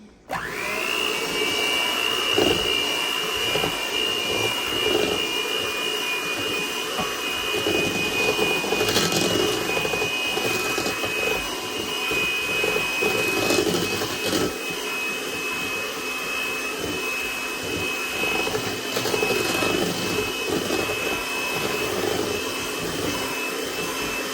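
An electric mixer whirs steadily and close, blending two sugars into sweet potato pie filling, a continuous high motor whine with slight variations, no talk.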